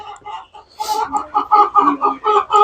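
Chickens on a chicken ranch cluck in quick, repeated bursts close by, forming a loud, steady run of fowl calls.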